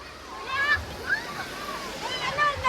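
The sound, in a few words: sea waves splashing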